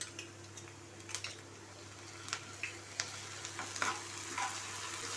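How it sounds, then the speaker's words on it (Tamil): Ginger garlic paste sautés in a pan with softened onions and curry leaves for egg fried rice, giving a steady low sizzle broken by light scraping and tapping as a spoon stirs. "நல்லா ரா ஸ்மெல் போகிற வரைக்கும் நல்லா வதக்கி எடுத்துக்கோங்க"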